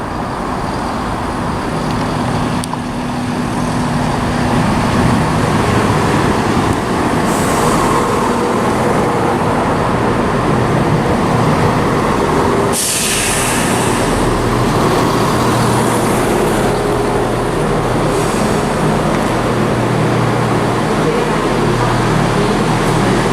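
A ScotRail Class 170 diesel multiple unit departs Dunblane for Edinburgh, a steady loud low diesel drone and rumble that holds for over twenty seconds with brief clanks, heard close by at a station with no talk.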